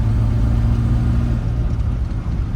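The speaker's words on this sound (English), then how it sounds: "A little downshift there into second. Get us up the hill." The engine of a 1932 Chrysler CP8 rumble seat coupe pulls uphill after a downshift into second, giving a loud, steady low-pitched rumble with a tone that shifts partway through.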